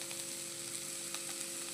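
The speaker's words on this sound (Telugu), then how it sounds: "ఇలా కొద్దిసేపు ఒక 2-3 నిమిషాలు సిమ్లో పెట్టుకొని చక్కగా ఫ్రై చేసేసుకోవాలి." Mixed vegetables fry on a low flame in a pan, catering style, giving a steady, close sizzle with no talking over it.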